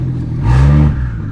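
A BMW 335i with an N54 engine and a Doc Race DR700 single turbo kit revs once up close, rising into a loud low growl that peaks and falls back to idle.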